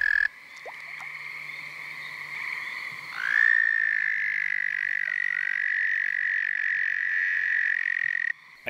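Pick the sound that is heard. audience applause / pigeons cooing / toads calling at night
toads calling at night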